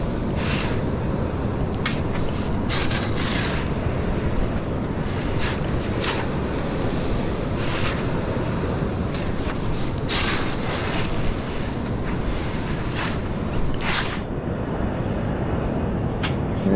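Incoming tide surf rolls onto a California beach with a continuous, loud wash of waves, heavy wind buffeting the microphone throughout, and no voices.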